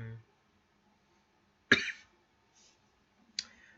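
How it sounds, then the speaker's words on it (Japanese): A man coughs sharply once, then gives a smaller second cough a moment later, loud and close, with a brief bit of speech at the very start. "めっちゃ咳出る。"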